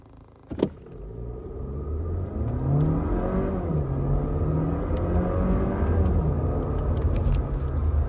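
A 2019 Volkswagen Jetta TSI driving in sport mode, its engine rising in pitch as it accelerates after a brief click, then holding a smooth steady hum from inside the cabin.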